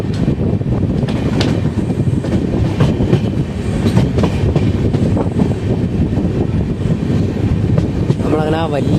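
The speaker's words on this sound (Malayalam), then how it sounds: "അപ്പോൾ അവിടെ വണ്ടി ഇവിടുന്ന് അങ്ങനെ ജസ്റ്റ് സ്റ്റാർട്ട് ചെയ്തു പോകുന്നുണ്ട്" The Antyodaya Express pulls away from Kollam Junction with a loud, continuous rumble and clickety-clack of wheels over rail joints, wind buffeting the microphone, and a brief tonal squeal near the end.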